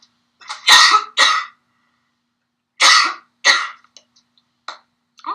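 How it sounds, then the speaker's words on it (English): A person coughs in repeated bursts, two strong pairs of close, loud coughs separated by a pause, then a few softer short throat sounds at the end. "I'm coughing."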